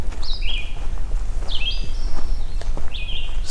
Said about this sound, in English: Sounds like an abbreviated hooded warbler.